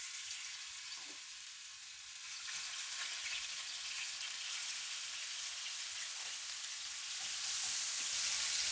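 Chicken frying in 4 to 5 tablespoons of hot oil in a pan, a steady broadband hiss and crackle that swells slightly louder toward the end, close and continuous with no talking.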